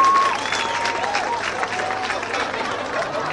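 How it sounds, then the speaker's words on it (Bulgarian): A student crowd at a university finance-specialty Oscars-themed evening breaks into sustained applause, a dense wash of clapping with faint voices mixed in. "Аплодисменти!"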